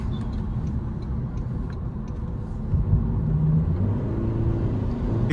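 A 2025 Toyota Camry drives along, its steady low engine and road rumble filling the cabin, swelling slightly in the second half with no talk.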